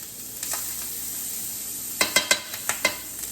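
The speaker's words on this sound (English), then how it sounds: "We're going to add a little olive oil. And then we're going to add some butter." Olive oil and butter sizzle in a hot pan, a soft steady hiss followed by a quick run of sharp spattering pops toward the end, no one talking.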